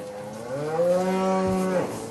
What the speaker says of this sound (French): Et ces vaches sont malades.